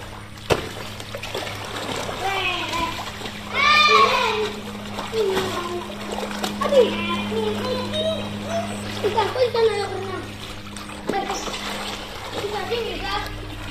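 Water splashing from children swimming, with light splashes and trickling heard under children's chatter and shouts, close by outdoors against a steady low hum.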